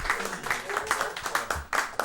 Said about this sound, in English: So can we have a warm round of applause for Marco Pinter?